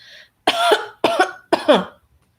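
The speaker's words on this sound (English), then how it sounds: "The little girl sat up in her bed and immediately started to cough" Three loud, close coughs from a little girl sitting up in bed, in quick succession, each harsh and raspy, preceded by a faint short sound; nothing else follows.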